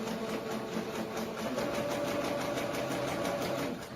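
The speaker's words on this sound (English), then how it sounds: "basically I'm just sewing the outside to the inside, making it look good." A sewing machine stitching a long red cape fabric runs with a steady, even whirring hum throughout, close and unbroken, with no one talking over it.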